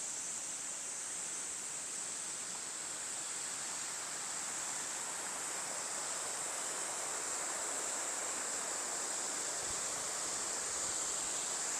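Steady, broadband roar of a waterfall, heard up close, in a video game with an outdoor setting, continuous and even throughout with no talking.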